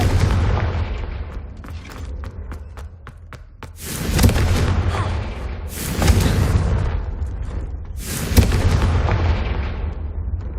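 Repeated booming blasts from a fire curse spell in the Hogwarts Legacy video game, several loud explosions arriving a few seconds apart, each with a long rumbling tail.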